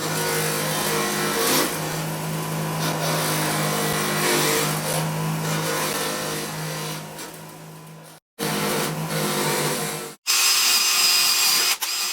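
Pliers are ground against a post-mounted wire wheel, a loud continuous whirring scrape with brief cutoffs where the work is pulled away, then a sharper, higher grind near the end.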